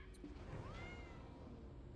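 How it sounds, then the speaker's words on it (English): A black cat meowing in the video game Black Desert Online, one soft drawn-out meow rising and falling, faint against a steady background hum. "Black cat."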